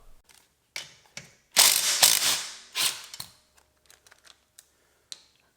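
Ratchet wrench loosening 12mm bolts on a 2022 Honda Grom exhaust, close clicking bursts with one longer stretch of fast ratcheting in the middle and scattered single clicks after.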